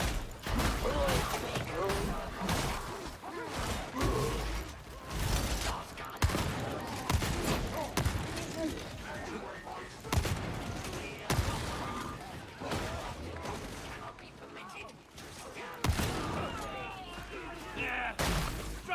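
Shotgun blasts and gunfire ring out in a chaotic Warhammer 40k Darktide battle, dense repeated bursts layered over constant combat noise, with voices speaking throughout.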